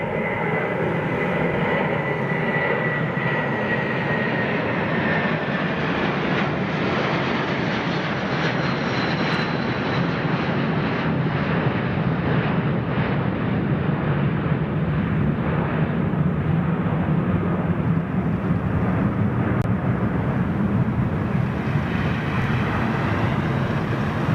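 A big jet airliner roars through a high departure, a loud continuous engine rumble with broad hiss that holds steady for the whole stretch, slowly shifting in tone as it climbs away.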